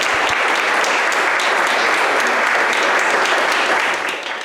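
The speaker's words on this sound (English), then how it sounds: "I want to invite everyone to give another round of applause to our..." An audience at a congressional candidates forum in a community center gives a sustained round of applause, loud and dense, tapering off at the end.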